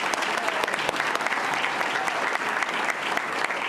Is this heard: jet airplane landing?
no